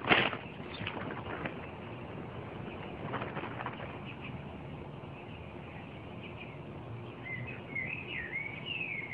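Faint, scattered chirps of a sparrow come in short bursts over a quiet outdoor background, with a few more calls near the end.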